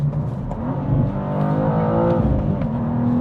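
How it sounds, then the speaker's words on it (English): BMW M2 engine blipping through a rev-matched downshift from fifth to second gear, a loud steady drone that rises in pitch and swells midway, heard from inside the car with no talking. "Let's just say I want to go from 5th to 2nd real quick."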